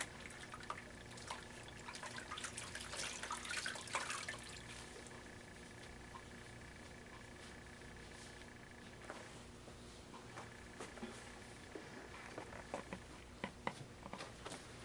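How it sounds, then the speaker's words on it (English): Water rinsing during a bed bath given by a nursing assistant, a soft steady trickle and splash of water from a cloth or basin, faint and continuous with occasional drips, with no talk. "Now we're going to rinse."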